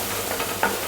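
Red amaranth greens with salt fry in a pan over a medium-low gas flame, a steady soft sizzle with a brief scrape of stirring near the end.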